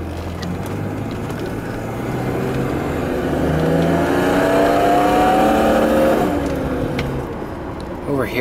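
A 1986 BMW 735i E23 sedan with a 3.5-liter six-cylinder engine runs close by, a loud steady drone that rises in pitch and then settles back, with a voice talking over it.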